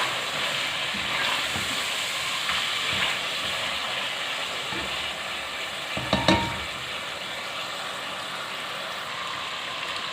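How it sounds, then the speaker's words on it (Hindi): Chicken frying with ginger garlic paste in a pan, a steady broadband sizzle throughout, with faint scrapes and one brief louder stir near the end. "इसको भी चिकन के साथ थोड़ा सा हम पका लेंगे।"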